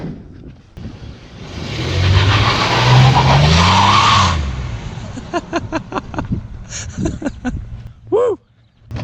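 A Chevy Astro van accelerates hard with loud tire skidding and squealing for several seconds, engine roaring underneath, then settles into quieter driving with scattered knocks and a brief voice near the end.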